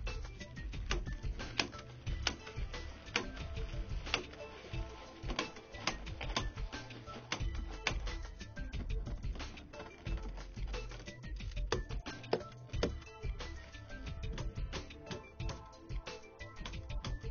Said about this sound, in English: We now staple the strip up, allowing for the material overlap and turn down on the bearer.